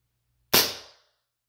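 A single sharp M9 pistol shot cracks loudly out of silence and decays quickly.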